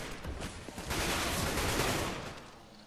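Rapid gunfire in Counter-Strike on the Cobble map during a triple kill, a dense burst of close shots that merges into sustained loud firing and then fades slightly, with no talking.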